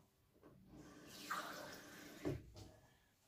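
Water poured into a small cup, a quiet trickling splash in two short bursts, close and otherwise silent.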